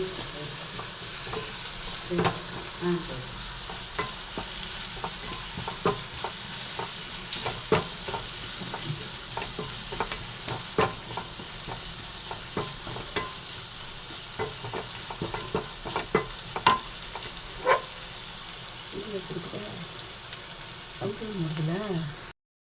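Goat intestine chukka sautéing in a pan, a steady crackling sizzle with repeated scraping stirs of a spatula throughout, close and moderately loud, with a few brief murmurs of talk.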